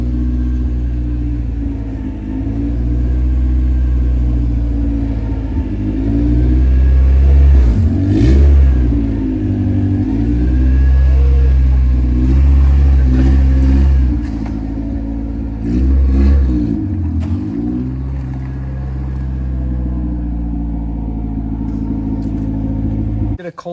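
A B-swapped Honda CRX engine cold starts and settles into a loud, rumbling idle, with several deep revs up and back down, recorded up close while people talk nearby.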